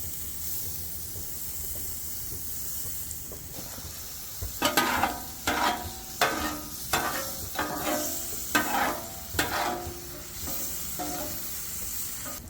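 Caramelized onions and a batch of eggs sizzle on a Blackstone griddle with butter, a steady frying hiss joined partway through by a run of sharp, rhythmic spatula scrapes and taps close by, no talking.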